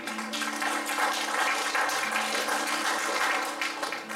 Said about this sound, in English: Give the Lord a hand clap and praise again.